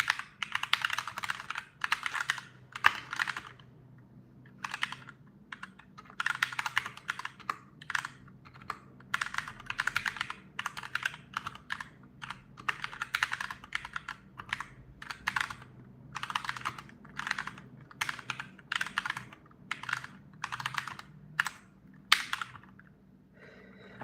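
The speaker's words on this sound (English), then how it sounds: "so this is just the typing experience. I think it's a pretty good mechanical keyboard." Typing on a GMMK Compact 60% mechanical keyboard: steady runs of crisp, clacky keystrokes in bursts with short pauses, close and alone with no talking.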